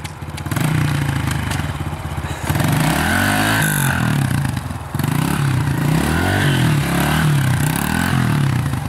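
A truck engine revs hard and steadily in second gear while doing donuts, a loud, sustained roar that rises and falls as the vehicle circles, with a brief dip before it climbs again.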